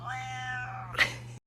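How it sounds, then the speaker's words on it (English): A cat gives a raspy, hoarse meow, a drawn-out cry ending in a brief rough burst, heard close and alone. "Then I have this cat who sounds like she smokes for 30 years."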